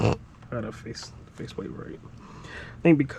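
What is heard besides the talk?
None of the usual background noises is heard.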